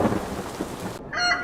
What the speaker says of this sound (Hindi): बादल की गरज थी।